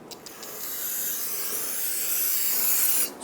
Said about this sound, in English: Grab a can of parts cleaner.